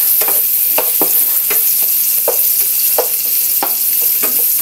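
Seafood sautéing in a pan with garlic, onion and ginger: a steady loud sizzle with rhythmic scrapes of a spatula stirring roughly every beat, close up and with no talking.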